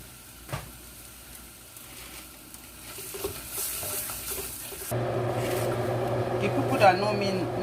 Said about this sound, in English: I'm going to reduce the heat as I continue to fry